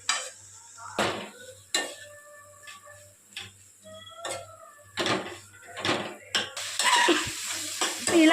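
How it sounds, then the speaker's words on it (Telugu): Tomato and carrot being stirred and fried in a pan for pasta, with repeated scraping strokes of a spoon against the pan over a steady sizzle and a low hum, ending in louder continuous frying. "ఇలా టొమాటో స్మాష్ అయిన తర్వాత మనం కట్ చేసి పెట్టుకున్న క్యారెట్ని వేసుకొని మిక్స్ చేసుకుందాం."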